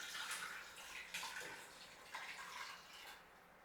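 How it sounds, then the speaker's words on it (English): Water pours into a pot over beef for an Italian beef dish, a faint, continuous splashing stream with slight surges. "So I just want a little bit of more water in there."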